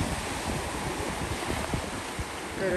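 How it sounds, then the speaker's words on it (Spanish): Rough, strong ocean waves at the far end of an island, heard as a continuous loud wash of surf with wind buffeting the microphone and no pauses. "estas olas están bravas y vienen,"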